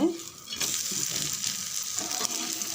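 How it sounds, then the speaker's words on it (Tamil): Onions sautéing in a pan alongside a rava thanni dosa give a steady close frying sizzle after a brief quieter start, with a couple of faint utensil knocks and no talk. "வெங்காயம் எல்லாம் வதங்குது பாருங்கள்."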